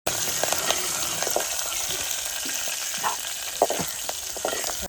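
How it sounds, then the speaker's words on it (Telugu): Dried red chillies and garlic crackle and sizzle in hot tempering oil for a village-style bobbarapappu charu, a steady close frying hiss with occasional sharp pops and light stirring scrapes. "ఎండుమిర్చి వెల్లుల్లి మొత్తాన్ని వేసేయాలండి ఒకసారి."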